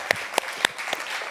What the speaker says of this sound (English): Can I get another round of applause for our amazing father speakers today?